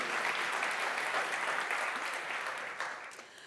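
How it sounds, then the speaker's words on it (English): A crowd applauds steadily, a dense wash of many hands clapping that fades slightly toward the end. "Everyone give a round of applause for Hawk Filsworth."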